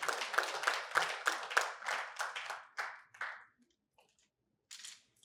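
Applause from a lecture audience in a hall, a steady burst of clapping that fades out after about three seconds, followed by near silence and a faint brief patch of noise.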